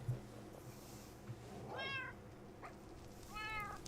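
Cats meowing in the video game Minecraft: two short, clear meows about a second and a half apart over a faint low background hum, fairly close and without speech.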